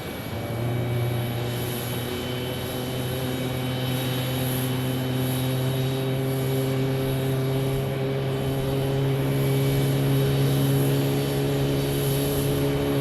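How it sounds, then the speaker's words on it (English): A Boeing 737 Max jet at Phoenix Sky Harbor airport, its engines giving a loud, steady, droning roar with a low hum and a high whine that swells slightly as it passes. "Oh, listen to those Max engines. Roar."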